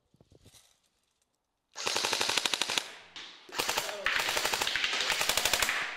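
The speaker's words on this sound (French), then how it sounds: "mettez-moi une petite rafale là vite fait pour voir un peu ce que ça donne" An airsoft replica fires long full-auto bursts with a tracer unit fitted. The bursts are loud and close, with rapid even shots, a short gap between them, and a faint voice beforehand.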